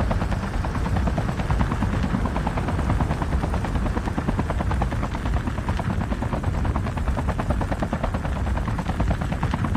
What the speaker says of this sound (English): We can't stay on this chopper!